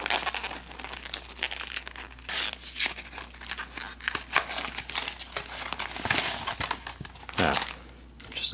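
Taped plain white cardboard combat ration box, Lithuanian Menu No.4, being torn open, giving repeated close crinkling and ripping bursts with a louder tear near the end, under quiet talk.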